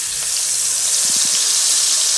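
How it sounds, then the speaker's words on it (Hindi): Masala spices roast in a hot pan after cumin has been browned, giving a steady, loud sizzling hiss that fills the whole moment, with a few faint low knocks partway through. "मसाले को अच्छी तरह भूनना है"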